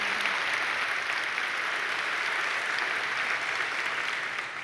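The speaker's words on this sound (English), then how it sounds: "You're supposed to applaud." Audience applause at an ArcGIS presentation: a steady, dense wash of clapping from a crowd that holds evenly throughout and starts tapering off only at the very end.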